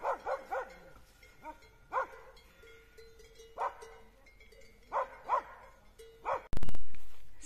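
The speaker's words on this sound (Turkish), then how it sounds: "Köpek sesi var." A dog on a rooftop in a rural cattle-farm setting barks in several short bursts and pairs, spaced irregularly at moderate distance, with a sharp knock or bump at the end.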